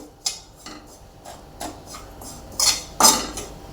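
Grated coconut being roasted in a pan over a very low flame, with intermittent scraping and stirring strokes of a utensil against the pan, growing louder and denser toward the end.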